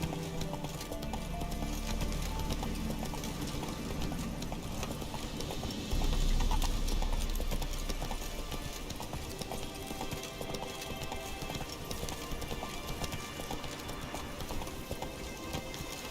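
Hooves of a horse clip-clop steadily through The Witcher 3, a continuous rhythmic gallop under dense ambient game sound and rumble, with no talk.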